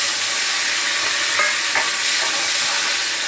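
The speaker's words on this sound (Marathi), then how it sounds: "थोडीशी मोहरी घातली आणि थोडंसं पुन्हा इथं फोडणीला जिरं." Mustard seeds and cumin crackle and sizzle in hot oil for a tadka, a dense steady hiss with a few sharper pops near the middle, close and fairly loud with no voices.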